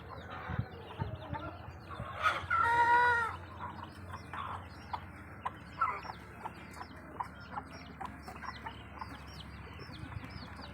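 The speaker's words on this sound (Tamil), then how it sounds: "பியூர் நாட்டுக்கோழி." Native country chickens cluck on a small farm, a flock producing scattered clucks and calls near and far, with one louder burst of squawking in the middle and faint chirps around it.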